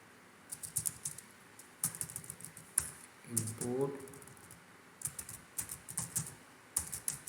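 Code being typed on a computer keyboard, with bursts of quick, close clicking key presses in short runs separated by pauses, plus a few muffled knocks and soft background noise.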